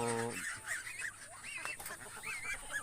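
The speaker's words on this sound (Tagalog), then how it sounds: "yung gansa namin" Geese honking in a backyard pen, several nasal calls overlapping in an uneven series at close range, with some background clatter.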